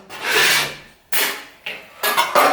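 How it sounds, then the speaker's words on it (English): A joint knife scrapes high spots off dried drywall compound on a patched plasterboard ceiling, four close, loud rasping strokes, one long pass followed by three shorter ones. "we'll take our joint knife and we're just going to run it over the surface, removing any of the high spots"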